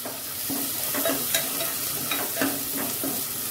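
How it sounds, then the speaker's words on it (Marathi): Onion fries in a pan while making rava lapsi, a quiet steady sizzle with a few sharp spoon scrapes and taps spaced through it, and nobody talking. "याच्यामध्ये कांदा ऍड करायचे"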